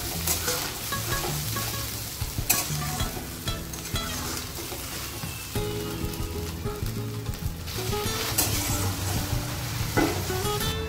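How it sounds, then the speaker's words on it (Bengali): Spice paste with ginger and green chilli is sautéed in hot oil, a dense, loud sizzle throughout with repeated scraping stirs and occasional sharper spatula knocks, close up. "তো আমাদের মশলাটা কষানো হয়ে গিয়েছে"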